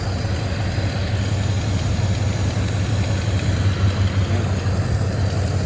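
A car engine idles after a mechanical fuel pump replacement, a steady close, loud low rumble that holds evenly throughout.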